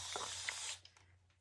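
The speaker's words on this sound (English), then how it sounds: "Okay, I'm going to spray the top" A spray bottle mists water onto a watercolour snowman painting in one sustained, close hiss lasting under a second, followed by a few faint drips and quiet room tone.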